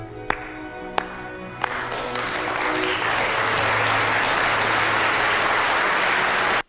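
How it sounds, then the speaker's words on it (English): A slow clap begins with a few single, widely spaced hand claps, then swells into loud, continuous applause from a large crowd that carries on steadily until it cuts off abruptly. "This deserves a slow clap."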